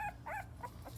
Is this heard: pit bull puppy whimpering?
yes